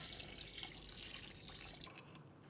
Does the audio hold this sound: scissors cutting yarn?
no